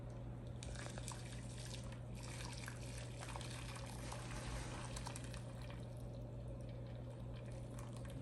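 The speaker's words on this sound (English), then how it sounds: "I am putting the boiling water in the bain-marie" Boiling water is poured into a bain-marie holding ramekins of crème brûlée, a soft continuous trickle and splash over a steady low kitchen hum, faint and unbroken for several seconds.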